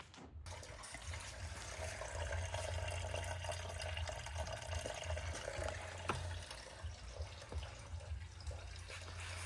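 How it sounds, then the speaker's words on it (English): Water drains steadily from a Bluecar radiator after its plug is pulled, a faint, continuous trickling splash over a low hum, with no talking. "So pulled the plug for the radiator, letting the water drain out of it."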